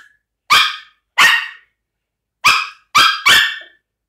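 Dogs give five loud, close barks in sharp separate bursts with short gaps of silence between them, and nothing else is heard.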